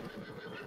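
Horse whinnying in the video game Red Dead Redemption 2 during a rainy outing, a brief, quiet neigh over a low, steady background wash.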